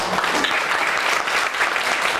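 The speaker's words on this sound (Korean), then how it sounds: "자, 박수를 부탁드릴게요." Dense applause from an audience at a startup pitch competition final, a continuous even roar of many hands clapping, loud and steady with no pauses.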